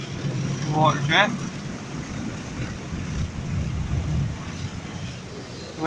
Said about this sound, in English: Water jet.